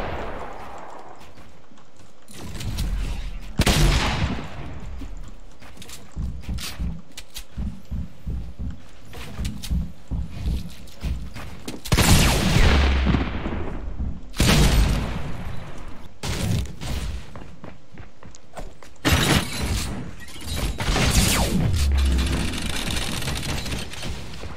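Gunfire in a video game, with repeated loud bursts of shots and booming impacts spread through a busy, dense mix of game sounds, close and continuous.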